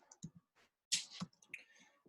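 A few sharp computer keyboard clicks come in short bursts with pauses between them, close and fairly quiet against a silent room, with no talking.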